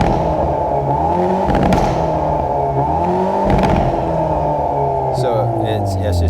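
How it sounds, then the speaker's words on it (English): A 2021 Hyundai Veloster N with 8-speed DCT revving at full throttle in N mode, loud and close, rising and falling in repeated pulls with crackling pops, under a speaking voice. "full throttle in normal mode, and this is in sport mode, and voila, this is in N mode"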